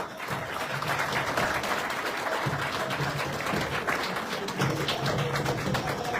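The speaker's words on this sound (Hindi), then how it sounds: "ताली जोरदार होनी चाहिए।" Audience applause fills a hall in Mumbai as a guest is welcomed, steady sustained clapping from a large crowd at moderate distance, with no speech over it.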